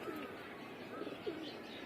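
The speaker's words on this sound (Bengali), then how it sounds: "এই যে কবুতরগুলো," Pigeons coo softly at a home loft as birds return from a 16 km toss; the low, rolling coos come in brief, faint bursts over steady background hiss, with no voices.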